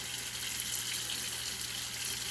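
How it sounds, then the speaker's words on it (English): Tap water runs steadily into a sink during handwashing, a continuous even hiss and splash with no talking. "I hold it down and let the water just run down"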